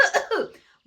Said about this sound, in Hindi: एक चूहे को आ गई खांसी